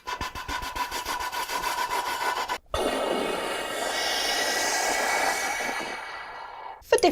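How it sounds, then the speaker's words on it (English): A hand rubbing up and down the outside of a tin whistle makes a close, steady scraping swish, in rapid strokes at first, then a longer continuous rub after a brief break. "you can rub up and down the whistle."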